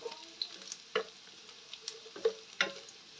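Garlic frying in a dry pan without oil for pancit bato, giving a faint, sparse sizzle with scattered crackles and a few sharper ticks from stirring.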